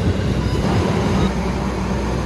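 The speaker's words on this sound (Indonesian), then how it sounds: "8:35 kereta Argo Cirebon berangkat dari stasiun Gambir menuju ke Cirebon dan Tegal." The Argo Cirebon passenger train departs Gambir station, producing a steady, close, low rumble of rolling wheels and carriages with no voices.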